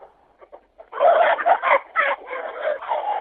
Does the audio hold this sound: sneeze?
no